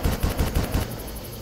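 Rapid machine gun fire in the shooter game Far Cry: a quick, evenly spaced burst of about five loud, close shots that stops after under a second and leaves a short ringing tail.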